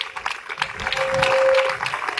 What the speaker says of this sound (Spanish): Démosle un fuerte aplauso al Señor, hermanos.